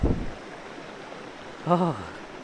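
A cold forest stream at the Ponmudi hill station in Kerala, heard as a steady, soft rush of flowing water that fills the background, with a short voice breaking in near the end.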